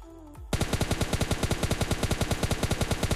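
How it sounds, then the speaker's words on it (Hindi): Rapid automatic gunfire in the mobile battle royale game PUBG Mobile, starting abruptly after a brief quiet moment and then continuing as a loud, evenly spaced burst of shots for about three seconds, with no talking over it. "सामने से शॉट्स ही शॉट्स आ रहे हैं"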